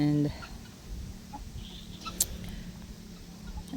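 Backyard hens, a mix of silver laced and red laced Wyandottes, Welsummers and a Buff Orpington, clucking softly and intermittently at moderate distance over low background noise, with a brief sharper call midway.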